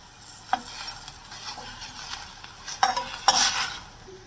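Onions and tomatoes sautéing with rock salt in a pan, a utensil stirring and scraping with a few sharp clinks against the metal over a soft background sizzle, close and moderately loud.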